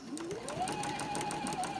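A sewing machine runs a patchwork seam for a star block table runner. Its motor whirs steadily and close by, rising in pitch as it speeds up, then holds an even stitching drone for about two seconds with no talking.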